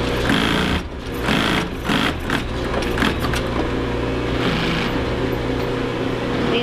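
An industrial sewing machine stitching heavy Duluth pack canvas in a workshop, running in a steady continuous whir with a low mechanical hum and occasional uneven bursts.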